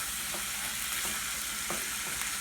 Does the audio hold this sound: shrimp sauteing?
yes